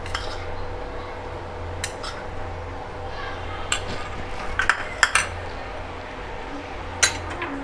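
A spoon stirring cheese into white sauce for pasta, with a quiet background hum broken by scattered light clinks and scrapes of metal against the pan, a few sharper taps near the end.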